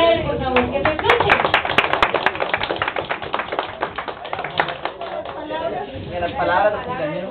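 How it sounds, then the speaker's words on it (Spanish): Guests clapping at a birthday serenade by a mariachi-style group, a burst of close hand claps that thins out over several seconds while people chatter in the background. "Un aplauso para él, por favor, que se escuche."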